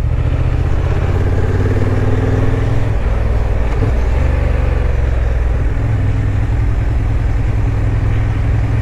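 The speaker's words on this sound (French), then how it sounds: "Le son à bas régime me fait quand même penser à la MT-07 plus que la CB500." A 2023 Honda CB750 Hornet motorcycle engine runs at low revs, close and loud, with a deep, steady throb and slight crackling texture.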